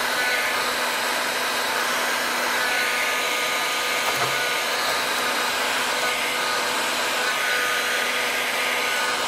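A heat gun blows steadily while gently warming a brass strip on a Boulle cabinet, a continuous close airy whir with a faint tonal hum and no speech.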